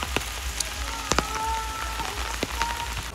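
Unseasonal rain falls steadily in Chikhli amid local flooding, a constant patter with scattered sharper drop hits and a faint tonal chirp in the background, no voices.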